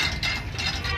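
Gear train mechanism at a science centre exhibit, giving close, rapid ratcheting clicks and metallic chatter in a continuous rhythm with no talk.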